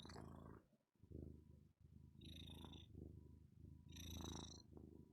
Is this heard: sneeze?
no